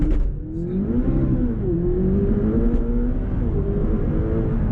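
A McLaren 570GT accelerating hard from inside the cabin, its engine note climbing in a steady rising drone, dipping briefly at a gear shift, then pulling strongly again, loud and continuous with no talk.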